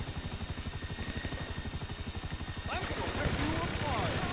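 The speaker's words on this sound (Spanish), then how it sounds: "Vale, helicóptero." Helicopter in a video game, a steady low rotor chop pulsing rapidly throughout, joined midway by busier gunfire-like game noise and a person talking over it.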